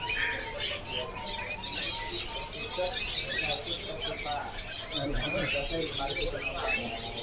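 Caged songbirds and doves at a bird shop chirp and coo in scattered, overlapping calls close by. A person talks over them throughout.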